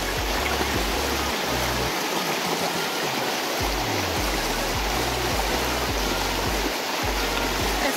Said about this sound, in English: Drinking straight from the mountain stream.